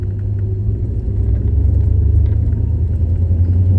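A 1973 Chrysler New Yorker Brougham with a 440 four-barrel engine, out for a drive, gives a loud, steady low rumble that swells slightly as it moves.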